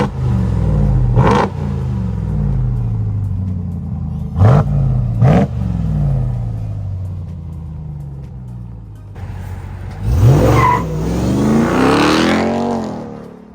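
A supercharged 6.2-liter Hellcat V8 in a 2021 Ram 1500 TRX truck revs hard several times, sharp bursts rising and falling, with a longer climbing rev and supercharger whine near the end.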